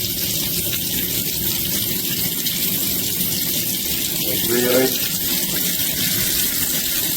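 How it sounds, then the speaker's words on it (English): Water rushes steadily from a matte black KENES tub-and-shower faucet set with a 10-inch rainfall head, a constant loud gush filling the whole stretch while a voice speaks briefly near the middle. "Now I'll show you the water pressure."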